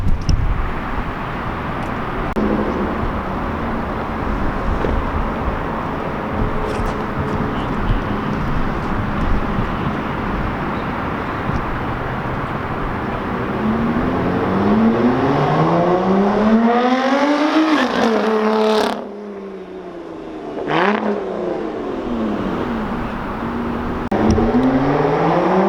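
A Lotus Evora 400 with a decat exhaust drives past, engine rumbling nearby before revving up through rising gear pulls, a sharp drop, then another burst of acceleration.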